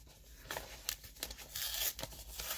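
Plastic packaging on a sealed K-pop parcel is torn open by hand, heard up close in several quick ripping pulls with crinkling between them.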